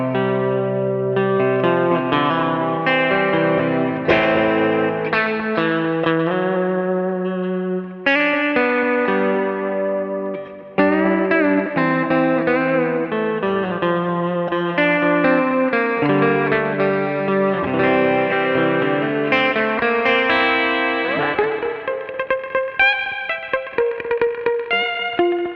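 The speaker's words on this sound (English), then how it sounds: "He's just turned the compressor on." Electric guitar played through a Minson M8 multi-effects pedal with the compressor on, giving a sustained, even chord-and-melody passage with chorus shimmer and reverb, loud and continuous throughout.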